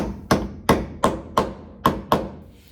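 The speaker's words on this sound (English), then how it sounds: "So I found the center, decided to hammer it into place" A hammer drives a nail into a wooden welcome sign with seven sharp, evenly spaced strikes, each a crisp close knock that decays quickly, about one every third of a second.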